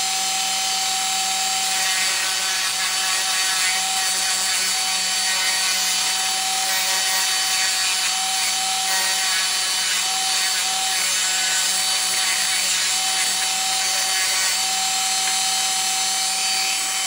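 A power tool with a steady whine sands and rounds off a wooden doll part, grinding continuously and evenly at close range with no voices.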